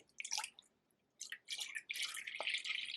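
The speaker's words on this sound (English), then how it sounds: "I'm pouring the milk in." Milk pours into an Instant Pot in a few short splashing bursts with brief pauses, close and fairly quiet, with no talking.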